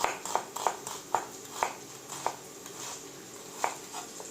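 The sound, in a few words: knife cutting onions into julienne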